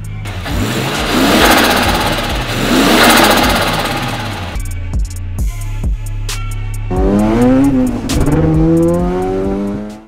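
A Mazda RX-7 with a rotary engine swapped from an R33 cranks and fires up close by, then idles roughly with a pulsing, choppy rhythm before revving up in rising bursts.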